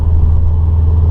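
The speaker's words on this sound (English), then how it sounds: "I want to let the exhaust do the talking." A Subaru WRX fitted with an Invidia Q300 catback exhaust rumbles loudly up close, a deep, steady, throaty engine drone with no talking over it.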